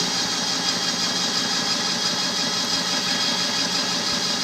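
Homemade electric pottery wheel with its motor running, a steady mid-pitched hum and whir with light vibration, constant and close, no talking.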